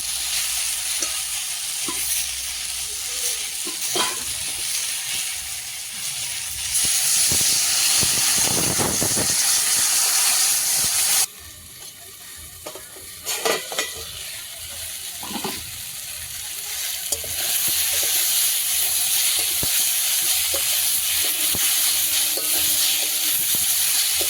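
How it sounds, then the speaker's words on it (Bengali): Green beans, papaya and potato curry frying in a wok, with a loud, steady sizzle and hiss, bursts of steam and occasional stirring scrapes; the sizzle drops briefly midway, then returns at full strength. "বরবটি পেঁপে আলুর তরকারিটা কড়াইতে দেওয়ার পরে পরিমাণ মতো লবণ, হলুদ, লঙ্কা দিয়ে দিয়েছি"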